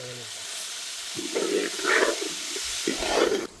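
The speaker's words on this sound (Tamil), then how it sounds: "இது நல்லா குழையிற முடிக்கு வதக்கணும்" Tomatoes sauté in a pan for idli kurma, giving a steady, close sizzling hiss that runs through the whole stretch with a few soft stirring sounds.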